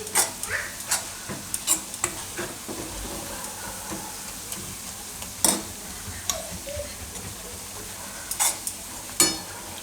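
Garlic frying in a pan with green coriander, stirred now and then; a steady soft sizzle runs throughout, broken by sharp utensil scrapes and clicks spaced every second or two.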